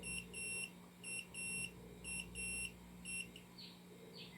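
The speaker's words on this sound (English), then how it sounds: "And the results are almost ready. You can hear it beeping." A cholesterol test meter beeps in a steady repeating pattern of high double tones, about once a second, faint against a quiet background hum.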